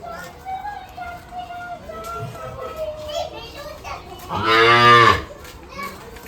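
A loud bull bellows for about a second near a cowshed, rising above a background of people talking and children's voices.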